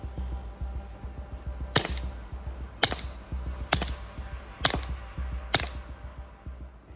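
An FN 502 Tactical handgun fired with a Dead Air Mask suppressor using subsonic Winchester Super Suppressed 45-grain ammunition: five sharp, evenly spaced muffled cracks about a second apart over low background rumble.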